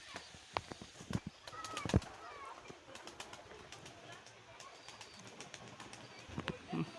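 Old pigeons and Fulshira pigeons in a coop make soft, low cooing and scattered wing flaps and clicks, faint and close, with sharper snaps near the start and end.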